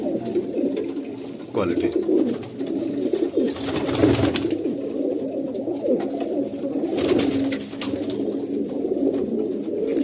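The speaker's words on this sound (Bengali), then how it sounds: "এই লফটে এত পায়রা" Many pigeons cooing together in a large loft in South Kolkata, a steady low murmur of overlapping coos with bursts of wing flapping, while someone talks over it.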